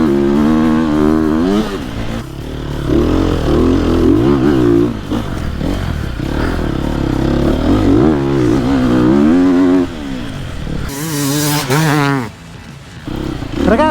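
A Sherco enduro motorcycle engine revs and bogs loudly close by while climbing a slope around a marker post, its pitch rising and falling repeatedly with clattering mechanical noise and brief drops in the throttle.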